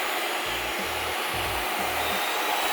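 A pet grooming dryer blows steadily at regular speed, a loud constant airy whoosh with a faint low hum pulsing underneath.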